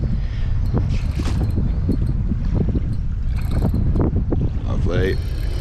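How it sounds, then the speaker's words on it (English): Strong wind buffeting the microphone on an ocean kayak while fishing for squid, a constant loud roaring rumble with a voice speaking underneath. "That wind is full on"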